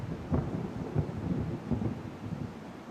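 Heavy downpour in Rajkot with deep rumbling thunder: a steady low roar of rain and storm noise, swelling in repeated dull booms over a few seconds.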